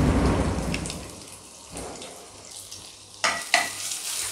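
Ginger garlic paste hitting hot oil in a home kitchen pan for gobi manchurian, a steady crackling sizzle with stirring scrapes and a couple of louder spits near the end, close and alone.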